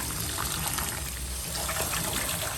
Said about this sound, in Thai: แล้วก็เปิดน้ำราด